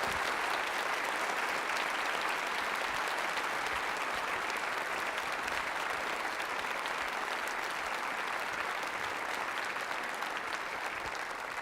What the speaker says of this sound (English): give a big round of applause for all of the teachers that put this on